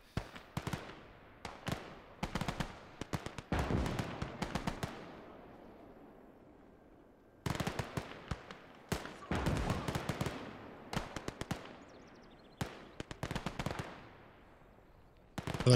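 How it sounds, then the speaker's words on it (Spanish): Bursts of gunfire in the World War II game Gates of Hell, rapid clustered volleys separated by short pauses, loud and close with a long echoing tail, fitting a machine gun firing in repeated strings. "Ahí tienen una ametralladora."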